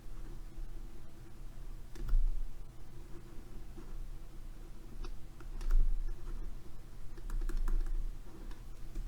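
Computer keyboard typing at a steady moderate level over a low constant hum, with a few louder clusters of keystrokes, during a lecture on the theory of Peltier cooling.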